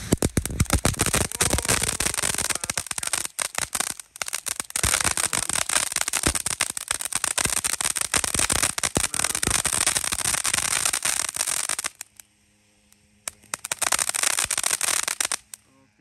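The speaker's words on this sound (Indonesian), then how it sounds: "Lanjut kita nyalakan mercon air mancur Pretek Beauty Flower warna-warni." A multicolored Pretek Beauty Flower fountain firework sprays with dense, loud crackling and hissing for several seconds, cuts out briefly, then bursts into crackling again.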